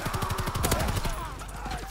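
Rapid bursts of incendiary shotgun fire and other gunshots crackle through a Call of Duty WW2 match, dense and fairly loud, with a voice speaking faintly underneath.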